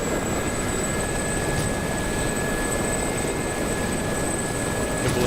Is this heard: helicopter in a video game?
yes